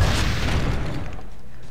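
A single heavy boom of gunfire in Assassin's Creed Brotherhood, loud and close, rolling off into a fading rumble.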